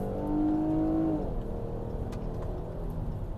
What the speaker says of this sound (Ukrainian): ну ви чуєте, V6 двигун звучить надзвичайно приємно